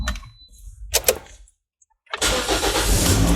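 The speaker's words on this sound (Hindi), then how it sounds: "गाड़ी स्टार्ट कर ली हमने।" A car engine cranking and catching after a few clicks and a short pause, then settling into a loud, steady idle, close by with no talk.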